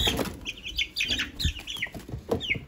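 Days-old Easter Egger chicks peep in quick, high, thin cheeps close by, with a few soft rustles and bumps from handling mixed in.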